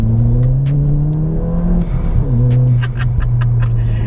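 A Mk7 Ford Fiesta ST hatchback, tuned to 260 bhp, drones loudly from inside, climbing in pitch through the gears with brief dips at each shift, with rhythmic clicks and ticks over it.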